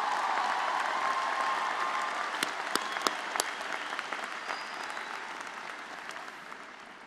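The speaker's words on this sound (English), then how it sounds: "let's give a big round of applause for those parents" Applause from a commencement audience honoring parents, a broad sustained wash of clapping that slowly fades over several seconds, with a few sharper individual claps standing out midway.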